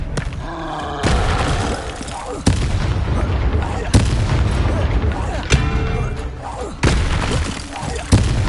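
Spell combat in the Hogwarts Legacy video game: a series of loud, sharp booming blasts and cracks, roughly six impacts spaced a second or so apart, with game voices and effects around them.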